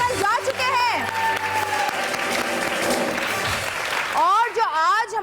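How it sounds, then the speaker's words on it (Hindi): A studio audience on a television entertainment show applauds as a steady clapping bed, while a presenter's voice and background music play over it and the sound lifts near the end. "बहुत सारी तालियां लोगों के लिए जो कल जा चुके हैं"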